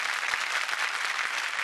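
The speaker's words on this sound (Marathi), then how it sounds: "जोरदार टाळ्या मायाजींसाठी." Audience applause at a Marathi comedy show stage event, a loud, dense and steady burst of clapping filling the whole moment with no voices.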